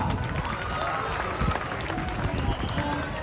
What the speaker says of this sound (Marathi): टाळ्या वाजवा टाळ्या